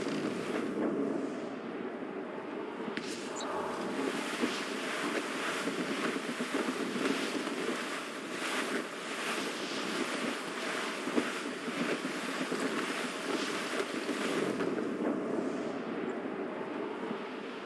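A sailing ship at sea in Assassin's Creed Rogue fills the scene with steady wind and rushing waves washing against the hull in a continuous, even roar.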